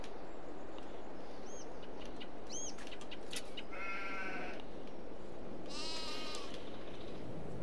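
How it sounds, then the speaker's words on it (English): Several sheep bleat in short, wavering calls in a farming video game, some overlapping, over a steady hiss of background noise; one long bleat stands out near the end. "Yes, I know you noisy sheep."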